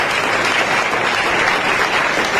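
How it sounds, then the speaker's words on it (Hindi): A church congregation clapping loudly during a worship service: dense, continuous applause from many hands, close and strong throughout, with no break or voices above it. "हम एक बार जोरदार ताली बजाएंगे"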